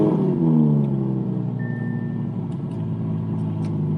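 A 2021 Audi R8 V10 Performance, not fully cold, fires up with a loud low rumble that flares at the start and then settles into a steady deep idle, close and alone.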